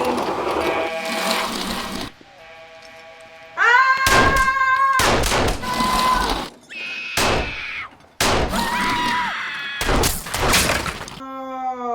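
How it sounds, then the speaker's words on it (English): Gunshots in a violent scene from the TV series The Sopranos ring out as several sharp, loud bangs spaced across the clip, mixed with shouting voices and tense music from the show. "Stop shooting him."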